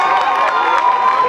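A crowd at an outdoor river party cheers and shouts loudly in a dense, continuous roar, close and sustained throughout with a few higher yells standing out.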